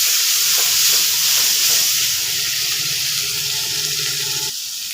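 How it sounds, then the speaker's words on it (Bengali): Ground spice paste added to fried onions in a pan, giving a steady hiss and sizzle that is loud at first and then eases slightly, with faint clinks and a brief stir near the end. "এখন বেটে রাখা মশলাটাকে দিয়ে দিচ্ছি।"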